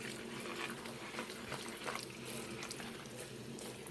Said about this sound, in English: wrap around your hand and just rinse all of the suds out